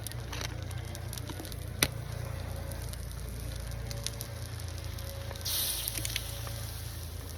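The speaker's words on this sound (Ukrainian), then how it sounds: "я вам хочу показати, як сірники горять, навіть якщо вони намокнуть" Quiet hissing and soft crackling of burning matches, still burning after getting wet, with a brief louder flare of sizzle partway through, otherwise faint and steady.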